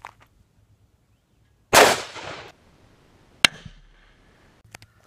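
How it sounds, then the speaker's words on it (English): A single .357 Magnum gunshot striking homemade ceramic body armor, a loud burst followed by a sharp impact crack and a few faint clanks, with no talking. "Let's try a 357 Magnum."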